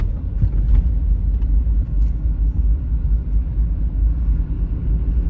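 A car rumbles along on the road, its low engine and road noise loud and close from inside and running steadily throughout.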